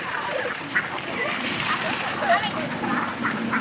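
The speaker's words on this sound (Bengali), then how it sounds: "হাঁসগুলো অনেক আনন্দ করতেছে পানিতে।" Ducks splash and play in a pond used for bathing, with soft, continuous splashing and a few quacks under a person's talk.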